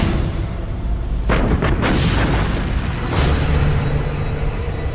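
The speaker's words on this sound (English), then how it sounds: "Bismarck opens fire." Guns of the battleship Bismarck opening fire, several heavy booming blasts in quick succession over a constant loud rumbling background, with no talk.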